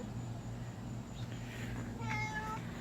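A cat gives one short, fairly faint meow over a steady low background hum.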